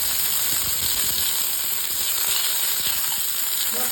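Raisins dropped into hot white cooking oil for a home breakfast dish sizzle and crackle in a dense, steady hiss that stays close and loud throughout, with a faint stir or two underneath.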